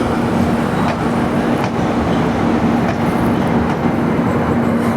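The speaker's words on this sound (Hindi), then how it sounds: "Gandhinagar capital Veraval intercity express." Gandhinagar Capital–Veraval Intercity Express rolling along steadily, a continuous loud rumble with a low hum and faint periodic rail clicks, no voices.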